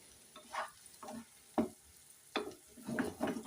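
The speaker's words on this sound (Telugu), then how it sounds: "దీన్ని ఈ ఆయిల్లోనే కొంచెం నిదానంగా లోపల వరకు మసాలాలన్నీ పట్టేలాగా వేసుకుంటే అయిపోతుంది" Small eggs frying slowly in masala-coated oil while being stirred, short bursts of scraping and sizzling at irregular intervals, close and fairly quiet.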